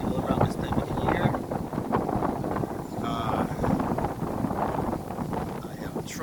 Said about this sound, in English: Today is very windy up here